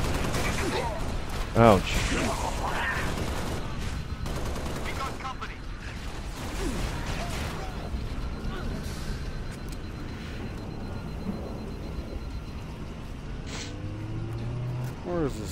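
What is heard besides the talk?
sniper gunfire in Halo: Reach video game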